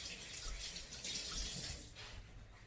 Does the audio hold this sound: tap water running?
yes